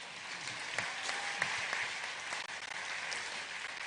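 Sustained applause from a summit audience at the Africa Climate Summit 2023 for President Samia Suluhu Hassan, steady clapping with a few sharper claps standing out, no voices over it.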